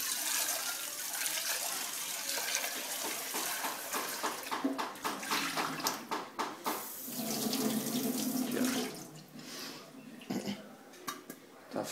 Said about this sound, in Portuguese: A gente vai despejar essa água quente aqui mesmo.